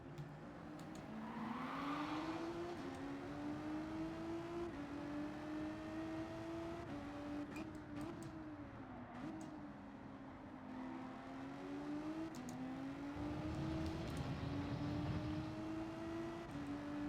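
Porsche race car engine in Gran Turismo 7, a fairly faint steady drone that rises and falls through gear changes over about seventeen seconds, with no talking.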